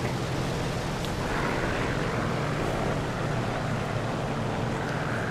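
Propeller aircraft in War Thunder, a loud, continuous engine drone with wind rush, steady and close throughout.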